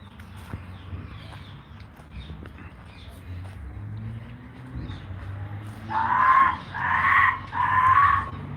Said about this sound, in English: That's a typical scream from a weeper monkey.